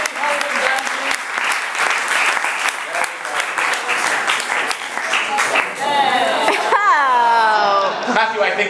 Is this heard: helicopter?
no